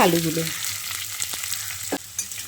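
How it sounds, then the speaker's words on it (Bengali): Potatoes tossed into hot oil with black mustard seeds, a soft steady sizzle broken by a few scraping stirs of a spatula against the pan, close and fairly quiet. "আলুগুলোকে দিয়ে তেলের সঙ্গে খানিকক্ষণ নাড়ে চেড়ে মিশিয়ে নিয়ে"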